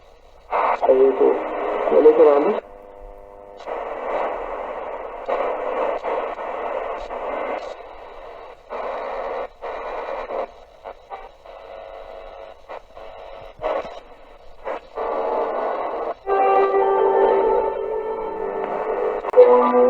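A solar-powered S-FT10BTS portable radio tuned across shortwave, giving hissing static and snatches of distant broadcast voices and music that fade in and out with brief dropouts.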